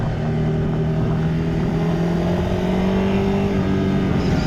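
A Ducati Scrambler 800 motorcycle engine, 2023 Next-Gen model, pulls steadily as it accelerates. Its loud, continuous drone rises gradually in pitch and holds close and strong throughout, with no voices.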